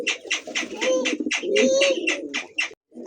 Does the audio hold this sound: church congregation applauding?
no